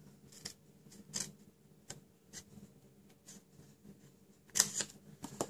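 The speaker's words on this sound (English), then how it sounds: "What you're going to do here, you're going to cut up score lines." Scissors cut cardstock along score lines for a divider in a stationery gift box, giving a few separate crisp snips spaced a second or so apart, quiet and close, with no talking.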